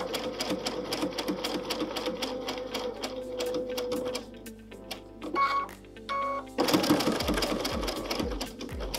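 Free-motion appliqué stitching on a sewing machine with a standard presser foot gives a steady, close, rapid needle chatter with a few brief pauses and short faster bursts, and no talking.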